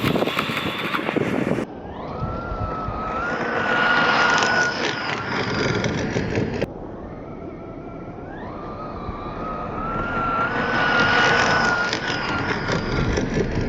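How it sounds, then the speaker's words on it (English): A Traxxas Drag Slash RC drag truck on a 3S battery makes two high, whining bursts on a poor surface. Each rises sharply in pitch as it accelerates, with a brief pause between the runs. "This truck is an absolute blast to drive."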